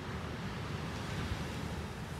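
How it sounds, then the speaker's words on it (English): Powerful December ocean waves wash continuously onto a beach, a broad rushing surf roar mixed with wind buffeting the microphone. "Listen here as we are in the presence of these beautiful, powerful waves"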